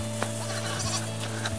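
Sheep in a flock bleating, several loud overlapping bleats close by over a steady hum, with short bursts of sound between calls.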